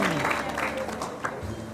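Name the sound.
audience applause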